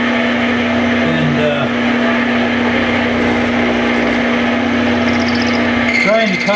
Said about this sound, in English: trying to cut this C-shaped piece of metal out